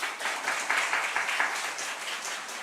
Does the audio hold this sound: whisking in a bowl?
no